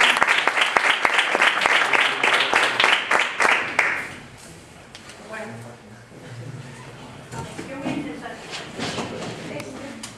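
Audience applause at a book presentation, a dense burst of clapping for about four seconds that stops abruptly, followed by low room murmur and voices talking.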